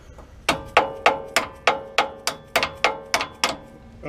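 A hammer taps a part through the brake caliper of a 1999 Damon Challenger RV, about a dozen sharp metallic strikes in a steady rhythm, close and ringing, with no talking.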